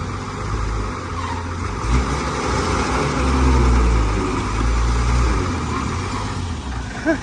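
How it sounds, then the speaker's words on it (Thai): An old vehicle engine cranks and turns over while in gear, giving a loud, rough, continuous mechanical rumble up close, with voices talking underneath. "เข้าเกียร์แล้วสตาร์ทเลยครับ"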